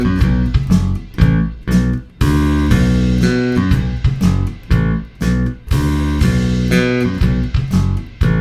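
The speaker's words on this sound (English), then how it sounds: "We're going to play this entire bass line with a pick, only using downstrokes" Bass guitar picked entirely with downstrokes plays a bass line: a steady run of punchy, pitched notes with sharp attacks in a repeating riff, close and loud, with brief gaps between phrases and no talking.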